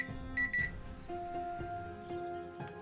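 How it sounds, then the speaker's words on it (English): A metal detector sweeping over 400-year-old reclaimed oak on a lathe gives a series of faint electronic tones that shift in pitch as it moves. "I'm going to give it one final check with the metal detector"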